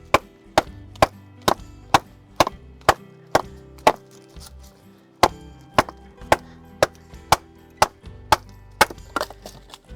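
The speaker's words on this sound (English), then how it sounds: "It can be easier if you just place the axe on it and start hitting." An axe repeatedly strikes and splits wood set on a log outdoors, a steady series of about twenty sharp, close knocking chops at a regular brisk rhythm, each with a short woody ring.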